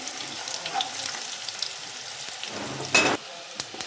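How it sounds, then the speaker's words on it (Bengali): Ingredients for coriander leaf chutney fry in a pan with a steady low sizzle, joined by soft stirring scrapes and a brief louder clatter near the end. "আমার এটা লাল লাল করে ভাজা হয়ে গেছে।"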